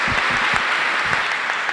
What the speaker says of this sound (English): yes, a big applause.